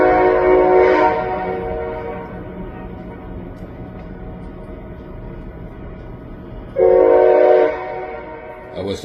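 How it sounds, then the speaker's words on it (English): A freight train whistle sounds twice near a street crossing: a loud, harmonic blast at the start and another about seven seconds later, with a steady low rumble between them. "That's the whistle."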